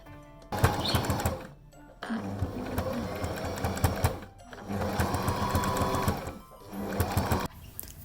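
A sewing machine stitches layered fabric pieces with a faux button placket, running in three loud close bursts of rapid mechanical chatter separated by short quiet pauses.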